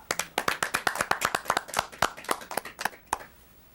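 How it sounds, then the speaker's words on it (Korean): A small audience claps at a broadcast event celebrating a soccer match, with distinct, fairly slow individual claps in an uneven rhythm that thin out and stop after about three seconds. "우리 모두 늘 푸른 나무 이 멋진 친구들에게 뜨거운 박수를 보내드립시다."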